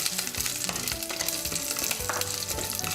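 Urad dal, chana dal and three whole small onions fry in hot oil, a steady close sizzle with clattering stirring throughout and no voices.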